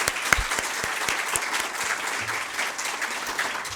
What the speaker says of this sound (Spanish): Reiteramos el aplauso entonces por este panel de lujo.